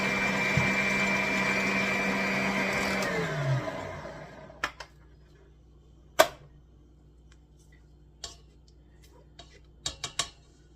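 An electric mixer whirs with a steady whine while beating chocolate cake batter with buttermilk, then winds down and stops, followed by a few sharp, scattered clacks of bowl and beaters.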